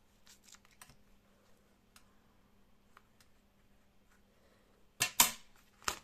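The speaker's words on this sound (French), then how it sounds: "Je vais couper en bas." Paper being cut for an art journal, with faint scattered snips and taps that give way to a few sharp, louder cuts near the end in a quiet room.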